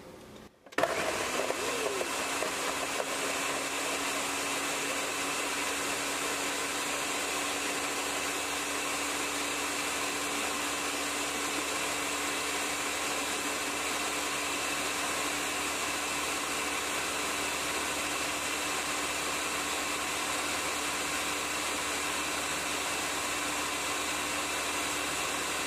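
A blender mixing a smoothie of raspberries, milk and water starts abruptly and runs as a loud, steady motor whir for the rest of the stretch, close and alone.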